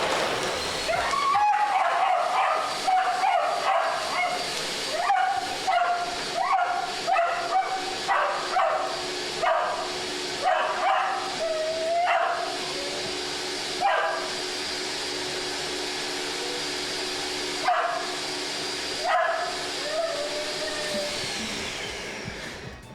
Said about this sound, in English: Like every time the blender turns on, Tova acts like she's the fucking ingredient